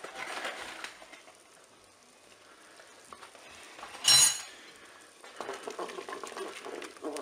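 Sauce thickened with cornstarch is stirred in a pan, a soft scraping and bubbling that comes and goes, interrupted midway by a brief louder clatter, with no talking.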